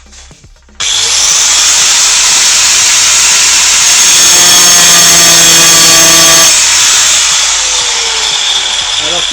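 An angle grinder bites into a metal tube with a sudden, loud, high-pitched whine that holds steady for several seconds with a ringing tone, then eases off as the cut ends.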